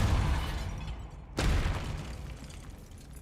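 A Depulso force spell goes off in the Hogwarts Legacy video game: a single sudden whooshing burst cuts through a rumbling game background midway, then trails off over low ambient noise.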